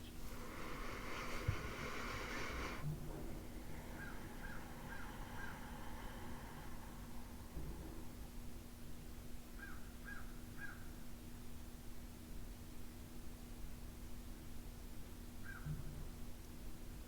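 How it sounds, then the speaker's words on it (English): A bird calls in short repeated bursts, several quick clusters of chirps spaced across the stretch, moderately clear over a steady background hum, with a denser noisy burst at the start. "Bird really wants our attention"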